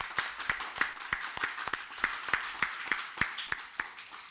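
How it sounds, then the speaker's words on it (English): A conference audience giving a round of applause after a speaker's request, heard as a steady, evenly spaced run of sharp claps at a brisk rhythm, moderately close, with no talking. "do as loud as possible a round of applause, please, and I will join you"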